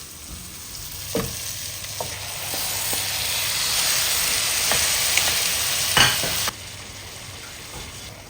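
Chicken searing over high heat with yogurt and spices before the rice goes in, a loud continuous frying hiss with a few sharp clinks of a utensil against the pot, close up, and nobody speaking.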